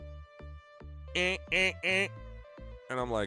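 A man vocally imitates a fire alarm, heard through in-ear monitors, with a few repeated nasal, honking bursts between short spoken words and low hums.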